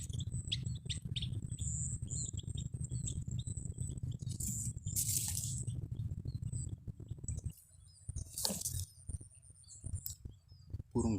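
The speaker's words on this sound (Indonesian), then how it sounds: "Burung gelatiknya belum mau turun guys" Java sparrows chirp in bursts over a dense chorus of insects at a bird-trapping site; the high tweets come in short clusters, some close, some farther off, with no talk.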